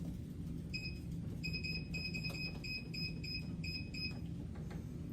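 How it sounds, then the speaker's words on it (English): A kitchen timer beeps repeatedly in short, high electronic chirps arranged in quick clusters, clear against a low steady room hum. "I'm going to put a timer on for 10 minutes."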